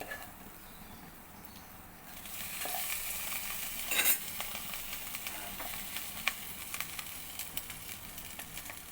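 Chicken frying with curry powder in a pan sizzles faintly, then grows louder and busier after it goes in, with crackles and spatters near the mic and a few stirring scrapes.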